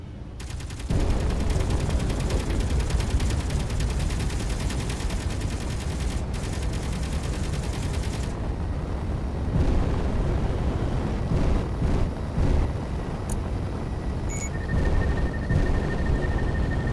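Turrets fire on an incoming gunboat in the video game Space Engineers, a dense, continuous roar of rapid gunfire that runs loud for most of the stretch, with a few brief beeps and a steady tone near the end.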